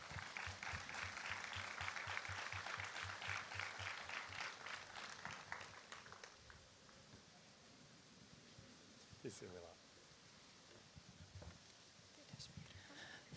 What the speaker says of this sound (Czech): přivítejme paní Wagner potleskem